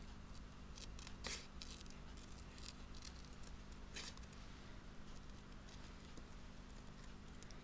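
Soft, irregular snipping of scissors through paper or card, close by and quiet, with a few sharper clicks over a faint background hiss.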